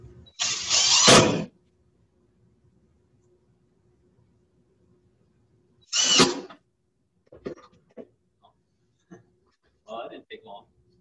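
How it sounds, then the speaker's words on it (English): Two loud bursts of an impact driver sinking screws into a wooden board with no countersink, each a short rattling whir about a second long, separated by quiet, followed by brief clicks and handling noises. "So I've got an impact driver here, I've got my screw, and I put a few in a row"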